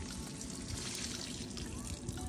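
Water spills from the fitting of an RV macerator pump as it comes off, giving a steady, close splashing trickle that runs unbroken for the whole stretch.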